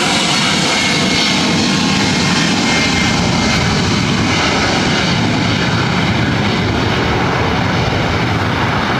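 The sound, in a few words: Southwest Airlines Boeing 737 MAX 8 jet taking off at LAX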